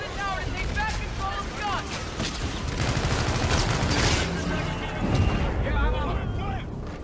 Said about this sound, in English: ZF is using our Aegis guns to shoot down the fleet.